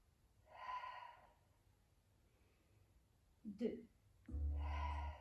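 Breathing during a Pilates exercise, with an audible breath in the middle and a heavier exhale near the end, alternating with a woman's spoken instructions.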